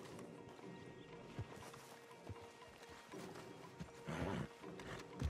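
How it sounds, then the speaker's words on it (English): Horses moving in Red Dead Redemption 2, with a few soft hoof clops and shuffling under a busy game ambience. A louder burst of movement comes near the end. "Javier, you're gonna lead the stallions"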